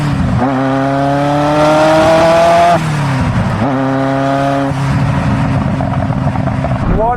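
Ferrari F40, a 1991 car, revving hard in repeated throttle blips, the engine note climbing steeply, dropping back, then rising again, loud and close with no talking over it.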